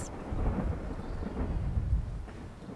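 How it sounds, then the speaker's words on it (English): Thunder rolls in a long, deep rumble during a garden rainstorm, swelling and fading over a soft bed of falling rain, with no voices. "Shh, go away, thunder."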